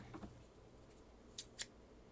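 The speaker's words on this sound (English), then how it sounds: "Scissors." A pair of scissors snips fabric in a quiet room during a dress fitting, with a faint rustle followed by two short, crisp cuts close by.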